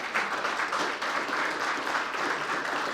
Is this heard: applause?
yes